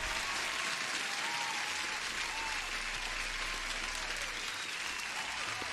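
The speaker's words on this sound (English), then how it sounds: "Huge applause to Ukando" Applause sound effect plays on a trading livestream: a dense, steady burst of clapping from a crowd, continuous and fairly faint, with no voices.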